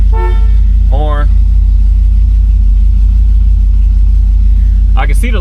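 A 1968 Chevrolet Impala SS with its 396 V8 idles in a loud, steady, close rumble, broken by short horn toots at the start and again near the end.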